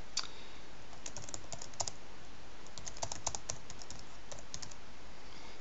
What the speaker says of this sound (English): And then we just type in whatever we want to